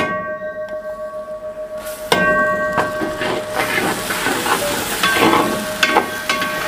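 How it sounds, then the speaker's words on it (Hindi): Steady, loud sizzling of ginger garlic paste in a hot pan for chicken biryani, with scraping and stirring clatter over the frying hiss, close up. "अब मैं इसमें डालूंगा अदरक लहसुन का पेस्ट।"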